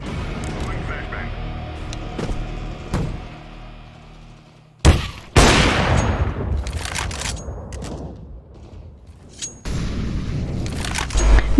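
Flashbang grenade thrown in Counter-Strike: Global Offensive, a sharp loud bang partway through, followed by crackling gunfire and game noise, with voices talking across the match.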